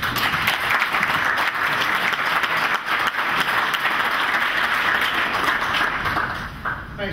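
An audience in a large hall applauds to welcome Harry Dent onto the stage, steady full clapping sustained throughout, easing slightly at the very end.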